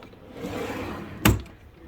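A wooden desk drawer slides and knocks once, a short sharp clatter close by near the end, set against quiet room tone.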